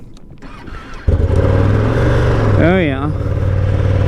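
A 2020 Ducati Panigale V2 motorcycle cold-starts, cranking briefly before catching into a loud, steady idle with a short rev, close by, with someone speaking over it.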